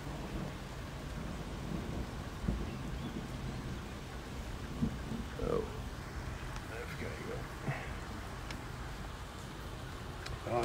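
Steady rain hisses throughout a thunderstorm in Moordrecht, with low thunder rumbles in the background, while people talk quietly over it.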